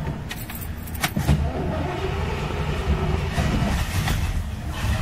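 A Chevrolet Camaro pro touring engine is started, with clicks and jangling at first, then a loud, steady idle rumble filling the rest of the clip.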